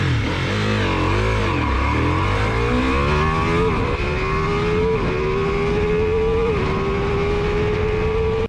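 A Ducati Multistrada V4 S motorcycle engine revs up hard and fast, its pitch sweeping and rising loudly and steadily then holding high, close up with no talk.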